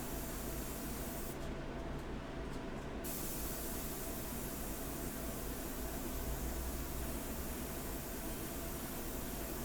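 An airbrush sprays India ink in a steady, continuous close hiss that holds for the whole stretch with only a slight dip early on.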